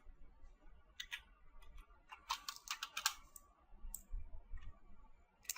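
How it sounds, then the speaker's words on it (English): Sparse, quiet clicks of computer keyboard keys being pressed, including Control and right arrow, in a few short clusters over faint background noise with no talking. "Press Control and the right arrow button of your keyboard."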